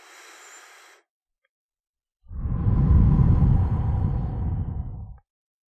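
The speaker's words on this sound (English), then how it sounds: "Try to match my breathing." A slow, deep breath, drawn in through the nose and let out through the mouth, heard up close; a faint short inhale comes first, then after a pause a long, loud, breathy exhale that lasts about three seconds.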